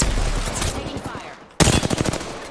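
Rapid automatic gunfire in an Apex Legends match, loud sustained bursts that drop off, then resume abruptly close up with sharp repeated cracks.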